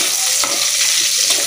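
Ginger, garlic and onion sauté in a hot pan, a loud steady sizzle with occasional scrapes of stirring, close up and without voices.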